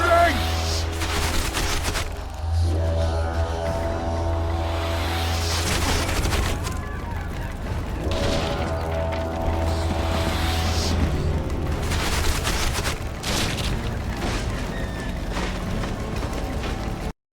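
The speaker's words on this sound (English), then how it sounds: "Take cover! They're shooting!" Gunfire in The Witcher 2: Assassins of Kings, as a loud volley of shots and bangs sounds through a busy battle mix with clanking mechanisms and shouting voices throughout.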